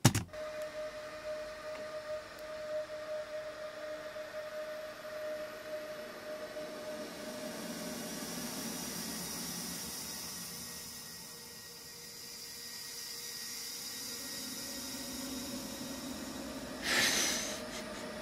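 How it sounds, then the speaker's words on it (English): A dot matrix printer slowed down sixteen times: slow, drawn-out mechanical grinding with low droning tones and gliding pitches, continuous throughout, ending in a brief louder burst. "that's a dot matrix printer, slowed down by 16 times"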